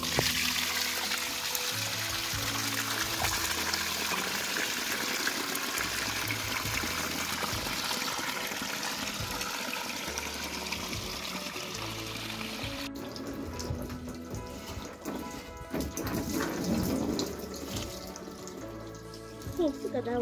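Water runs and splashes continuously for a long stretch, poured out while changing the water of home-raised catfish, with faint voices at times.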